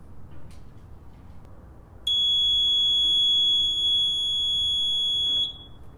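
A fire alarm panel trouble buzzer sounds a continuous piercing electronic tone for about three and a half seconds, loud and close, then stops.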